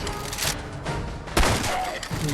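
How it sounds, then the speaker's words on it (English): A grenade blast in Fallout 4 erupts in a loud, close burst of booms and crackling debris, with a second heavy thump about halfway through. "we got hit by a nade"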